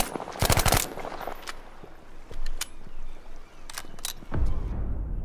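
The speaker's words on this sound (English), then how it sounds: "The Suomi KP 31 was a Finnish submachine gun." A Suomi KP 31 Finnish submachine gun fires in a video game, with a loud rapid burst early, then scattered single sharp cracks and a final heavy report, with no talking.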